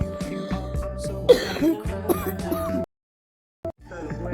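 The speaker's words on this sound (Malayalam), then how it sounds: "ചുമയാണ് ക്ഷമിക്കണം" Someone close to the microphone coughs and clears their throat in a few harsh bursts over background game music, then the sound cuts out briefly before returning.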